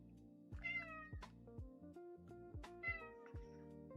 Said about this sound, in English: This cat is the worst.